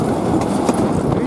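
A narrow-gauge cuckoo train runs along its rails past station Yalanets, giving a steady loud rumble of wheels with faint rhythmic clatter and no pauses throughout.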